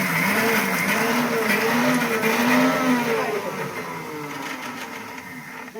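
A kitchen mixer grinder whirs through Solapuri-style garlic chutney, a loud whining motor with pitch rising and wavering as the blades churn, then easing and quieting toward the end, heard close with no talk.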